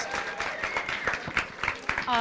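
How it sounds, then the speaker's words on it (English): Audience applause following a science slam talk in Barcelona, a steady patter of clapping throughout the short stretch with voices speaking over it. "enjoy your applause, right?"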